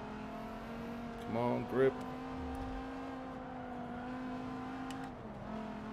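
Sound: race car engines in Forza Motorsport 7 video game

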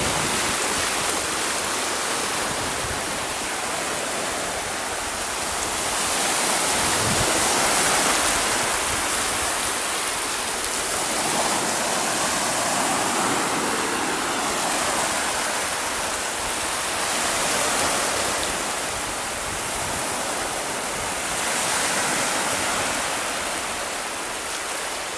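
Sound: sea waves at the beach, Port de Sagunt, Spain

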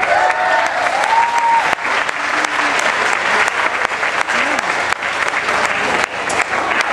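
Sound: applause

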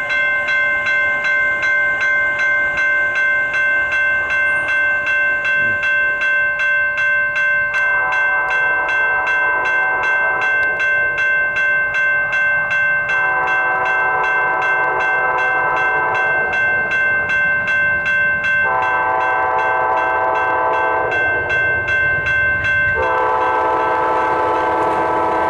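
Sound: Amtrak train with locomotive 835 passing, horn

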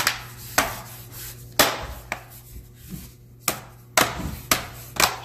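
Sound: laptop bottom panel snapping back into place

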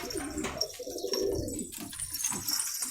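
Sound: pigeon cooing

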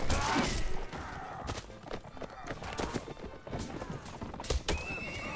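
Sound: horse neighing and galloping in Mount & Blade Warband video game

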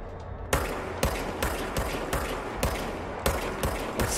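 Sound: gunfire from a weapon in the video game Control

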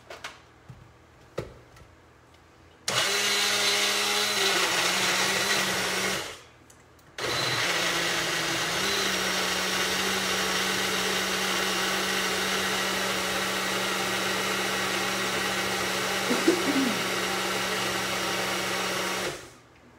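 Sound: blender blending green pozole soup ingredients

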